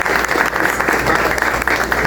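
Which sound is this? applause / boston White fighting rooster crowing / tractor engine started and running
applause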